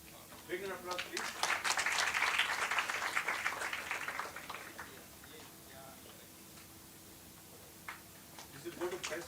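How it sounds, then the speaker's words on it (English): Audience applause in a university auditorium at an international chemistry symposium, a dense burst of clapping for the first half that fades to a quieter room, with a few scattered claps returning near the end. "Big round of applause, please."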